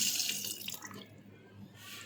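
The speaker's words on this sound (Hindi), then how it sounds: "अब मैं इसमें कर लेती हूँ पानी शामिल" Water pours from a tap into a carrot pickle mixture being made, a soft splashing stream that is strongest at the start and eases off, with no talk over it.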